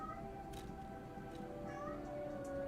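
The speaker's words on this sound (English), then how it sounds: "Shady, what are you meowing about, weirdo?" A cat gives a few short, faint meows spaced out over a quiet background with steady tonal sounds.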